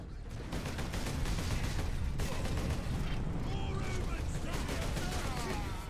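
Dense, continuous gunfire and explosions from the Warhammer 40K Space Marine video game battling Orks, loud and unbroken throughout with clattering bursts layered over a low rumble.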